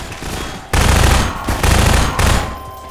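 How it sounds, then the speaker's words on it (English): Machine gun fire from the shooter game Half-Life 2 crashes in as loud, dense bursts of automatic shots, with brief lulls between three sustained volleys over low background game ambience. "Oh, they got machine guns. I'm getting a machine gun, yes!"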